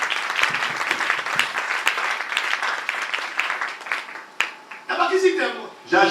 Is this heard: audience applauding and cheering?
yes